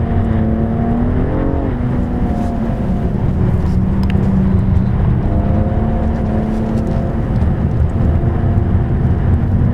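A 2014 BMW M235i runs laps at Las Vegas Speedway, its engine holding a steady, strong drone that dips at a shift early on, then settles into a smooth, sustained note heard from inside the car.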